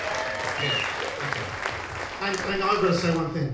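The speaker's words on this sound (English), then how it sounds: "Give yourselves a big round of applause before we start." A concert audience applauds before a show, sustained clapping filling the room while someone speaks briefly into a microphone over it.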